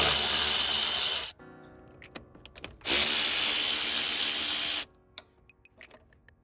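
A powered ratchet loosens 10 mm bolts on a 2000 Toyota Camry 2.2L engine, two long high-pitched whirring runs separated by scattered clicks and clanks from handling the tool.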